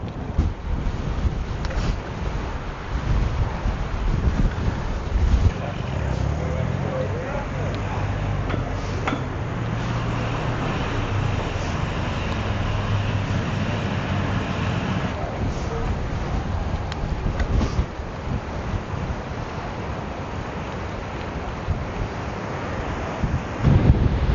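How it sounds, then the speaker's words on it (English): Strong coastal wind roars steadily across the microphone, a loud blustery rush with a low rumble underneath, sustained throughout. "It's extremely windy today."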